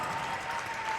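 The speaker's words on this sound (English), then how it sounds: "huge round of applause for our Dean's List finalists" Applause from an audience at a FIRST Tech Challenge state championship robotics event in Alaska, honoring award finalists; a dense, steady wash of clapping fills the short moment without a break.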